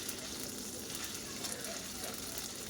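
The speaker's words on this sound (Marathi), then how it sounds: "कढई गॅसवरती ठेवली थोडंसं तेल टाकलं आहे नंतर त्याच्यामध्ये आलं आणि लसणाची पेस्ट टाकली" Ginger-garlic paste sautés in hot oil in a wok, giving a steady, dense sizzle that stays even and close throughout with no pauses.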